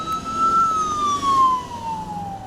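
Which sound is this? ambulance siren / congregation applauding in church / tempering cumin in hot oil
ambulance siren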